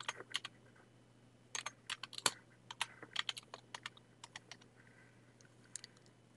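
A computer keyboard tapped to enter a file name, with scattered clicks in short bursts and uneven gaps, close and quiet against a low steady hum.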